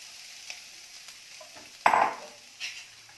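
Grated radish tipped into a hot pan of besan mixture for a stuffed paratha filling, a quiet sizzle broken by one loud clattering scrape and a second softer stir near the end.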